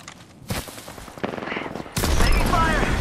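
Gunfire in the shooter game Apex Legends: loud rapid bursts build into sustained, dense firing in the second half, close and harsh, with a voice calling out.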